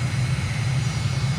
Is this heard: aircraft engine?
yes